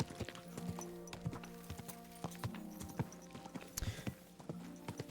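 Horse hooves clip-clop steadily in Kingdom Come Deliverance 2, a close, brisk rhythm of hoof strikes over a background of medieval game ambience and music.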